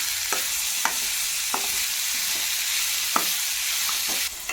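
Chopped flat beans fry in a pan as a curry and are stirred, a steady close sizzle punctuated by scattered spoon scrapes and clinks against the pan.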